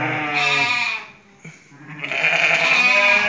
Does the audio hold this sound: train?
no